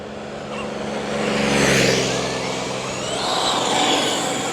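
A Traxxas XRT RC car fitted with a Hobbywing motor drives past with a rising, high-pitched electric whine that swells and fades, loud and close.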